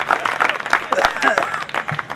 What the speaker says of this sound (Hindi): ताली बजाओ मेरे, ऐसे थोड़े,